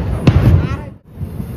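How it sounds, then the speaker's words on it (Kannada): Firecrackers burst in the sky with one sharp bang and a rolling rumble that fades out, heard outdoors while people talk close by. "ಪಟಾಕಿ ಪಟಾಕಿ ನೋಡು"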